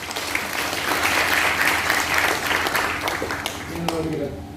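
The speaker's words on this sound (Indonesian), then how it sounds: "Ini dia tepuk tangan buat Rani." An audience at an event in a pub applauds warmly, a dense wash of clapping that carries on for several seconds and then tapers as a voice speaks over it.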